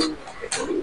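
A large pigeon on a pigeon farm gives a brief, close coo, a low throaty burble lasting under a second.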